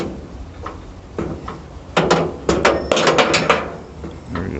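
The inside door handle of a 1937 Dodge Brothers car being worked, making a series of sharp metallic clicks and clunks that cluster in the middle of the stretch, close and moderately loud over a quiet background.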